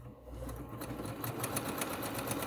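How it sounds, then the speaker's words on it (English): Sewing machine stitching pieces of a heart quilt block with a 1/4 inch seam, a steady rapid mechanical whir and clatter of the needle running continuously, close up and alone. "So let's sew this together on the sewing machine."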